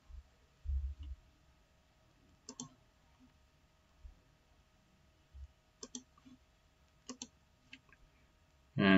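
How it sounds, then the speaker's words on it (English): A computer mouse clicks a few times at irregular intervals, short crisp ticks close up in a quiet room. "And then click on save."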